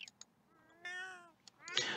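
A cat meows, with one long, clear drawn-out meow in the middle and shorter chirpy calls before and after, all fairly quiet and close in an otherwise still room.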